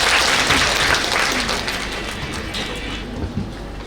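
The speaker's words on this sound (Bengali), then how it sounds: "আমরা সালাউদ্দিন ভাইয়ের জন্য একটা হাততালি" An audience at a women's entrepreneurship training event claps for Salahuddin, with dense, sustained applause filling the room and tapering slightly toward the end.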